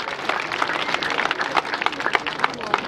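Dense, steady applause from a large crowd at a marathon challenge event in Rwamagana, many hands clapping at once in a continuous, fairly close roar with no pauses.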